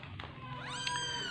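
Small kittens, about to be fed formula milk in the morning, meow with a thin, rising, drawn-out cry close by, over a low steady background hum.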